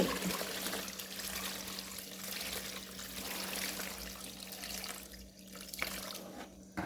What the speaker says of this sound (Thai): เดี๋ยวทีนี้เราก็จะเอาเอาน้ำปูนที่เราเตรียมไว้นะ